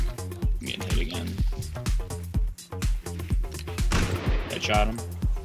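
Repeated gunfire in the survival video game Rust, a loud, rapid series of shots and impacts running throughout, with players talking over it.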